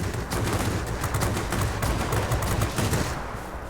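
Rapid cannon fire from a Ki-94-II fighter's two 30mm and two 20mm cannons in World of Warplanes, a dense continuous burst of loud overlapping shots lasting several seconds, with no talk.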